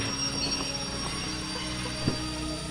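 A train in Derail Valley rolls to a stop with a steady low rumble and a faint metallic wheel squeal, plus a small clunk near the end.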